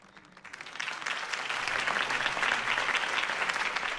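Crowd applause in a Batman: The Telltale Series video game scene, cheering Harvey Dent's campaign speech; steady dense clapping rises in the first half-second and holds loud and full to the end.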